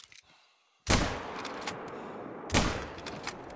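Rifle shot at a bobcat in theHunter: Call of the Wild, a sudden loud crack with a long rolling echo, followed by a second booming report about a second and a half later.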